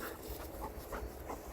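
A dog panting rhythmically in a garden near a blossoming apple tree, close and steady but fairly quiet, with breaths repeating about every third of a second.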